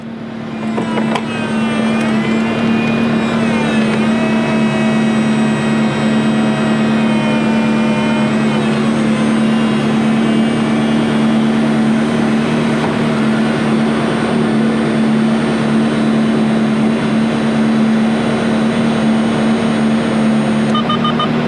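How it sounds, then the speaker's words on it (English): The folding convertible top of a 2004 Ferrari 360 Spider F1 retracts, driven by a steady electric-hydraulic hum with a faint whine, running continuously and evenly for about twenty seconds up close. "Top is completely up, and here it goes back down"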